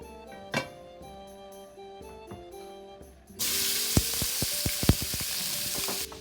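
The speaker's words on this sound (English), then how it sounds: "we're going to saute our shrimp" Shrimp hit hot extra virgin olive oil in a pan over medium-high heat and burst into a loud, sustained sizzle about halfway through. Sharp pops and clinks ring out over it, and quieter kitchen clatter comes before the shrimp go in.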